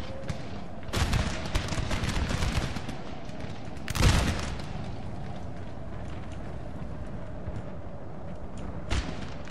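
Musket volleys crack out in a Napoleonic battle from Napoleon: Total War with the Darth Mod, with a large ragged volley near the start, a heavy massed one around four seconds and a lone later shot over a constant battlefield din.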